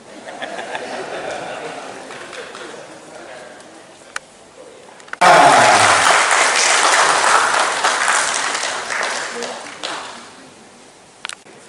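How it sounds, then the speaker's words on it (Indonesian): Quiet room murmur gives way to a sudden loud burst of audience applause at a book event about legal politics, then sustained clapping that slowly thins out toward the end. "Tepuk tangan lagi"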